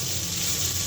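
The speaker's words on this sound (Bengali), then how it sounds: "এটা হালকা কষিয়ে নিব।" Ground mustard and green chili paste sautéing in a pan, a steady close hiss and sizzle with faint stirring scrapes, brief and alone.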